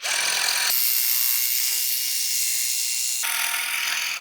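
An iBELL Vormir cordless drill set to maximum torque spins against granite, a loud continuous whirring whine that shifts in tone midway and then rises again, close and alone without talk.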